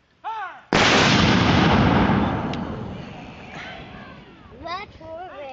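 Civil War reenactment artillery battery fires a cannon, one loud booming blast with a long rumbling decay, preceded and followed by people talking nearby.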